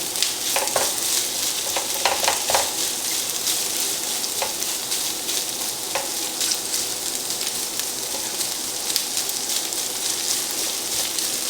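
Garlic and onions fry in a pan as orecchiette with meatballs and sausage is being cooked. A close, constant sizzle runs throughout, with scattered scraping clicks from stirring and tossing.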